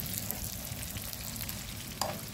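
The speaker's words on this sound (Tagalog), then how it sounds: "Yan ang ating prito kung danggit na ito po" Dried danggit fish fry in hot oil, a steady close sizzle with small crackles and one brief louder pop, no voices.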